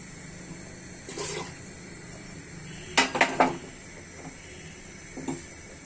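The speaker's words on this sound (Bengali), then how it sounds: "আর একটু পানি দিয়ে দিচ্ছি" Water pours into a pot of vegetable khichdi in a brief splashing burst, framed by a few quiet clinks of utensils and pot, with low kitchen background noise.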